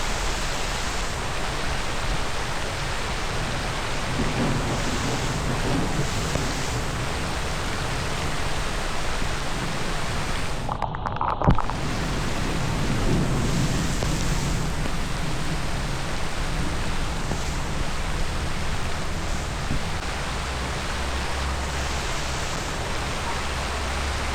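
Heavy rain pours in a constant roar for over twenty seconds, loud and even, with a brief sharper burst near the middle and no clear speech.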